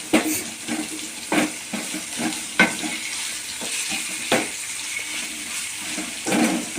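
Onion and capsicum fry in a pan for paneer pepper fry, a close steady sizzle broken by sharp scraping stir strokes that arrive every second or so.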